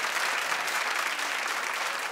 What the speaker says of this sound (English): Clap if you know what I'm talking about